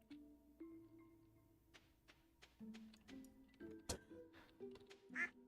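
Game duck quacks in Stardew Valley, several short nasal calls over soft background music and chimes, fairly quiet and spread across the moment.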